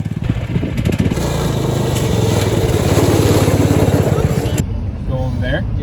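Small pit bike engines run loudly and steadily at an airport, with a continuous motorcycle-like drone that cuts off near the end, leaving quieter engine tones and faint talk.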